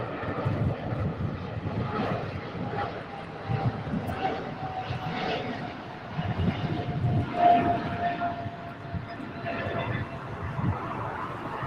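An Alaska Airlines A321 jet airliner passes near LAX with a broad, rumbling engine roar that swells and fades unevenly, heard outdoors at a moderate distance.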